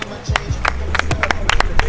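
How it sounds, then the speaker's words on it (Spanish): A few scattered, uneven hand claps at a water park, applauding a contestant disqualified for falling into the water, with crowd noise beneath. "Un aplauso para el descalificado"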